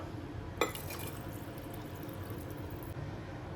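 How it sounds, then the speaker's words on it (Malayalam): Water pours into a pot of rice, lentils and tomatoes for rasam rice, a quiet splashing stream that starts abruptly and runs for about two seconds before stopping, with no voices. "ഇനി അരിയുടെ ലെവൽ വരെ വെള്ളം ഒഴിച്ചു കൊടുക്കുക"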